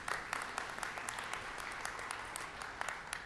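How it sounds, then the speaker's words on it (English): Applause from the audience during a keynote address on health care, a steady, fairly distant patter of many hands with individual sharper claps popping out, no talking over it. "You can clap at things you like."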